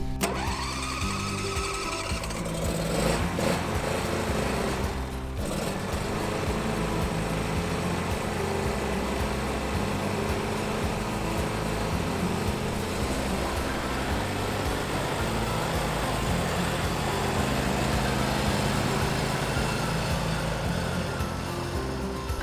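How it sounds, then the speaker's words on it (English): A self-propelled brush mower cuts along the edge of a farm field, its engine running as a steady, loud, continuous drone for the whole stretch with no talking. "we've got a self-propelled brush mower. We're going to mow that along the edge of the field"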